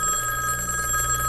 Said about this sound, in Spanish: Tengo que descolgar el teléfono, Goyi.